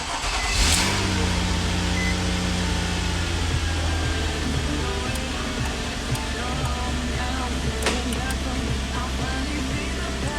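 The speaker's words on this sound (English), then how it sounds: "that's what's going to start the vehicle." A Nissan SUV started by remote start cranks and catches early on, then settles into a steady, close idle hum that keeps running, with some talk over it.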